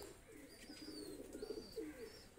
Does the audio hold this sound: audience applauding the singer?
no